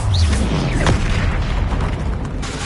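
A Confringo spell explosion erupts in Hogwarts Legacy, a loud deep boom with a sweeping whoosh and rumbling debris that carries on steadily for a few seconds.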